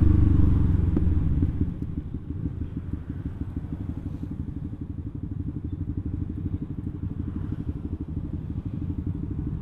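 Yamaha XSR 155 and Yamaha R15 motorcycles ride along on the way to a mountain, a steady, close engine drone with rhythmic mechanical clatter and wind roar throughout, slightly louder at the start, no voices.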